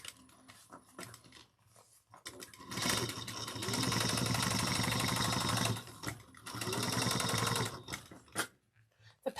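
A sewing machine stitches a narrow 1/8-inch seam on a handheld bag panel, running in two steady bursts of about three seconds each, close and clear with short pauses between and no talk.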